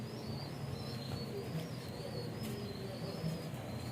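Racing pigeons in Sto. Tomas, Batangas coo softly in low, repeated murmurs against a steady outdoor hum, with a faint high whine running through and no talk.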